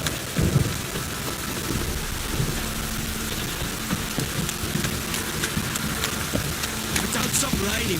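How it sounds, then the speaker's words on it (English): Steady rain falls in the Witcher 3 game world, with low rumbling like thunder beneath it, a constant even wash with a few brief louder bursts. "Don't stop raining, my arse will rot off."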